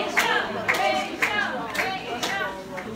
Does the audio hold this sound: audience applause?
yes